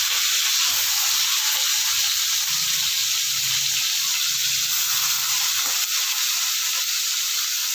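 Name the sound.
prawns frying in hot oil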